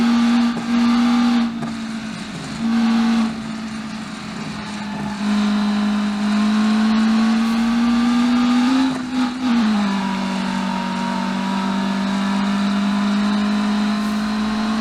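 Simulated race car engine in the Automation video game, held at high steady revs during a drag race, with a brief lift and shift-like dip mid-run before droning on loudly and continuously, no talking.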